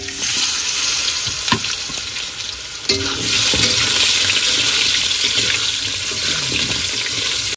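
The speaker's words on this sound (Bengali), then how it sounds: "তেল গরম হয়ে গেছে, এবার তরকারি চাপাই দেবো" Potatoes fry in hot oil in a pan during an outdoor riverside cooking session in the Sundarbans, giving a loud, steady hiss and sizzle with a few clatters and scrapes early on.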